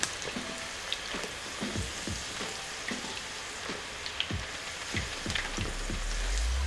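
Homemade fries frying in hot oil give a steady, close sizzle scattered with small crackling pops, with no voices.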